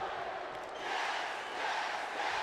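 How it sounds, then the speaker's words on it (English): A virtual arena crowd in the wrestling video game WWE 2K20 keeps up a continuous chanting roar, swelling slightly in waves, steady and fairly faint. "The crowd chanting for Daniel Bryan."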